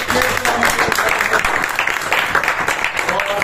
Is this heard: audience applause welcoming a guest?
yes